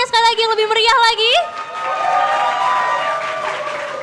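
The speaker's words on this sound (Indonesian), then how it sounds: "Boleh minta tepuk tangannya sekali lagi yang lebih meriah lagi?" At an award ceremony, after a loud amplified voice speaks at the start, audience applause rises and holds as a steady, moderately loud wash of clapping for the rest of the moment.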